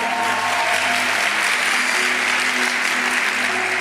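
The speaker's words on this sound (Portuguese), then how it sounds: "E se é para aplaudir, aplaude de verdade aí, irmão." A church congregation at a revival conference applauds, a thick continuous wash of many hands clapping at steady loud volume for about four seconds, with faint sustained tones from music underneath.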